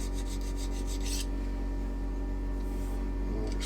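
Short rasping strokes of a file scraping burrs from a shop-made metal set up block, a quick series of rhythmic passes near the start and more toward the end, close and fairly quiet.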